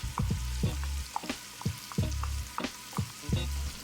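Diced onion and minced garlic fry in a pan for fried cabbage, a steady sizzle punctuated by regular, fairly loud knocks and scrapes of stirring roughly every half second, with no talking.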